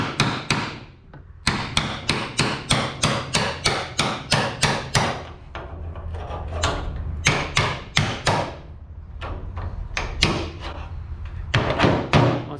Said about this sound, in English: So you just get your chisel under there and start lifting it up.